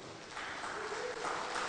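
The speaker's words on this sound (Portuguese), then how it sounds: "Dá uma salva de palmas para eles" A church congregation applauds, a dense, even wash of many hands clapping together, fairly faint and sustained throughout.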